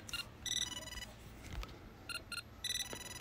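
Short electronic beeping tones sound from a Meshtastic device as a message arrives, several bright chirps in quick groups, clear and close over a quiet background.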